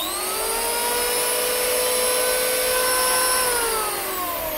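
A Makita electric hand planer runs steadily at idle, a loud continuous motor whine with a high-pitched tone that holds throughout and eases slightly toward the end, with no talking.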